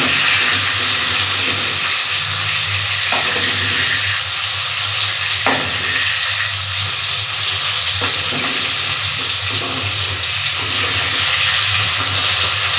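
Pointed gourd (potol), slit at both ends, frying under a covered pan: loud, steady sizzling and crackling throughout, with occasional soft knocks and scrapes, no talking.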